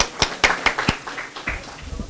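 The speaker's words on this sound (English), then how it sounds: "I think she deserves a huge round of applause." A few people clap at a climate change and resilience session, sparse separate handclaps rather than full applause, close and fairly loud, with a few words spoken near the end.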